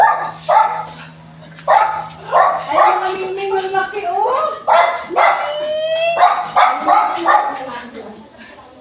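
A dog barks repeatedly in short, close, loud bursts with some yips, while a person talks over and between the barks.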